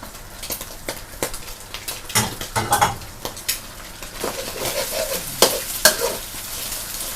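Rice being stir-fried with lemongrass in a pan, close sizzling with busy scraping and clattering of a spatula against the pan, metallic knocks scattered throughout, no voices.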